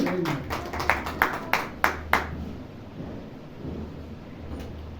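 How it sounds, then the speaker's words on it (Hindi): A church congregation at a Sunday meeting claps for God's glory, a handful of distinct, fairly quiet claps in an uneven run that quickly trails off into the room's low hum. "आप परमेश्वर की महिमा के लिए ताली बजा सकते हैं।"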